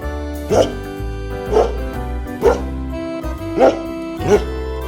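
A dog barks five times at an even, steady pace, each bark close and distinct over a sustained musical background.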